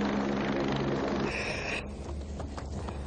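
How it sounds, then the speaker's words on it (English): A steady, droning helicopter-like rumble fills the background, then the tone shifts and thins partway through; no one speaks. "Hang on, Annabelle, I can hear the helicopter."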